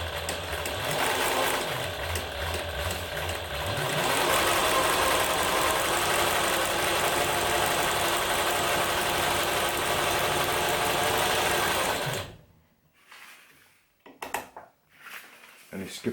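A Singer 107W1 industrial sewing machine with a servo motor stitches through 16 layers of sailcloth, a loud continuous rapid mechanical chatter for about twelve seconds, then stopping, followed by a few faint clicks and handling sounds.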